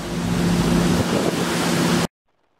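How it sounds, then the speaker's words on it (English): Strong wind buffeting a small boat on Lake Okeechobee under a small craft advisory, a loud, continuous roar with rushing water that stops abruptly after about two seconds. "This wind is kicking our ass."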